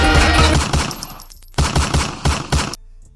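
Bursts of gunfire ring out in rapid clusters, loud and close, with short pauses between volleys and a quieter tail at the end; no one speaks.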